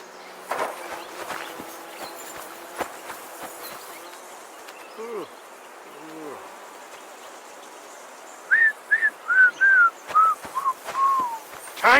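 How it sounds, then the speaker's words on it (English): Whistled melody from a rider on horseback in Kingdom Come: Deliverance II, a short run of bright rising and falling notes arriving late and fairly clear over a soft outdoor ambience with faint footfalls. "Your whistling is getting on my fucking nerves the whole way."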